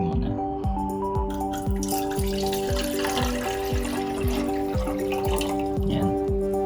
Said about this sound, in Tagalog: halagyan natin ng tubig muna